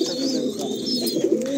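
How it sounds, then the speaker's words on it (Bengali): Pigeons cooing inside a breeding loft in Kolkata, low throaty coos rolling steadily and close with no voices over them. "এখানে একটা পায়রা দেখায় আপনাদের"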